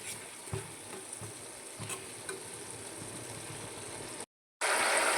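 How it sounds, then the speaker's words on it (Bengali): Ginger-garlic paste and spices frying in a pan for a jackfruit curry give a steady close sizzle with soft stirring knocks. The sizzle drops out briefly near the end, then returns louder. "আদা রসুনের পেস্টটা দিয়ে একটু কষিয়ে নেবো মশলাটা"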